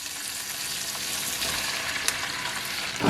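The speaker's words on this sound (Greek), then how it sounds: "Θα αφήσω και τις πιπεριές να τσιγαριστούν για άλλα 4-5 λεπτά." Peppers sauté with onions in a pan, giving off a steady, dense sizzle with a brief stirring clink near the end.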